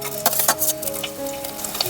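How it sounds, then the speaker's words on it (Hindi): Chillies crackling and sizzling in hot oil for an Indian tadka, with irregular spitting pops and a faint metallic stir over a soft background hiss, close and moderately quiet. "अब जल्दी से फटाफट तड़का लगाते हैं।"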